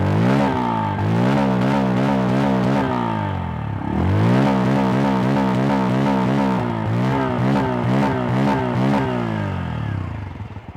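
A Bajaj Pulsar N160 motorcycle's exhaust note, close and loud, as the engine is revved hard in repeated rising and falling bursts, dropping back briefly near idle before climbing again.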